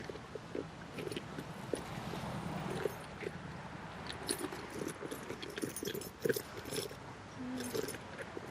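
Metal keys jingle and clink in scattered bursts over several seconds, close by, with soft handling noise and no voices.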